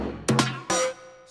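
Percussive clank sample from an Ableton stock drum rack, two sharp metallic hits with ringing tails, played alone.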